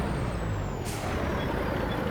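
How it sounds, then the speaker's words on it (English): A Kenworth truck in Farming Simulator 25 lets out a sharp hiss of air brake release, with a brief high whine just before it, over a steady loud engine rumble and no talking. "Pull the Kenworth forward."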